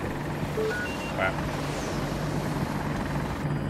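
An attack helicopter in Battlefield 2042 drones steadily and loudly all the way through, with a low rotor hum under a brief excited voice and scattered game beeps.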